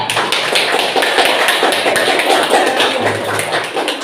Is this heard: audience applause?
yes